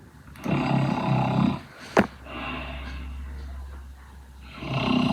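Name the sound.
anime snoring sound effect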